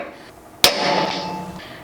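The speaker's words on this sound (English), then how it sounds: "you'll want to grab a center punch and a hammer, and first come as close as you can to the center of the slot" A single sharp hammer blow strikes a center punch against metal, marking the center of a slot before drilling; one loud crack that rings and decays briefly, no talk.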